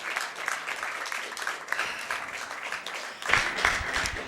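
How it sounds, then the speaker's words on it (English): An audience at a live speedrunning event claps for the runners: a soft, steady patter of applause that swells louder near the end. "Can we get a huge applause for the two runners of the race once again"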